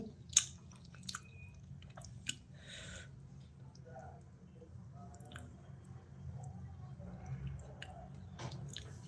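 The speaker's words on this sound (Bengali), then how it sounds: "খাচ্ছি গো খাচ্ছি" Someone eats during a livestream, making faint, close chewing with wet smacks and small clicks over a low background hum.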